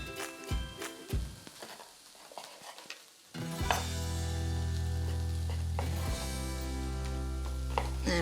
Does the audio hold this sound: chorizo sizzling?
yes